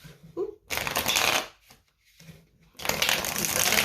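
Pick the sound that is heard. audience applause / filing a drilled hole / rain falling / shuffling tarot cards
shuffling tarot cards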